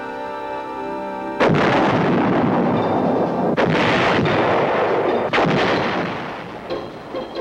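Artillery fire from the Vietnam War, with the 4th Infantry Division: heavy booming blasts, one after another, loud and close. Each burst is followed by a long roar and rumbling decay.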